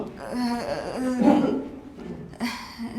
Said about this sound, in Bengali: শব্দ আসলো কোথায়? কাশির শব্দ?